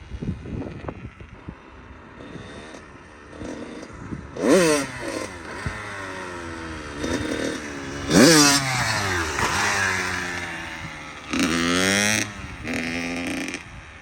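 A motorcycle engine revs hard in repeated surges during a wheelie, climbing in pitch several times before dropping back toward idle between bursts, loud and close.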